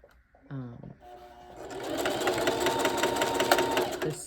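A Singer sewing machine stitching a thick wig weft, its motor whirring up into a steady fast rattling hum of closely spaced stitches, heard close and clear after a short voiced sound at the start.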